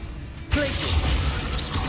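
A Glacius freezing spell cast in Hogwarts Legacy bursts in abruptly after a brief quiet moment, a broad icy whoosh with crackling texture that holds steady and loud to the end, over game ambience.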